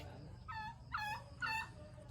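Three short gobbling turkey calls in quick succession, moderately close, over a low steady background rumble.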